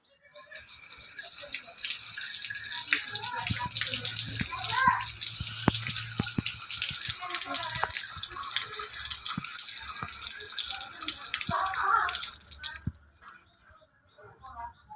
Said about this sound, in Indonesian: kita harus mencuci daun minyak kayu putih dengan air mengalir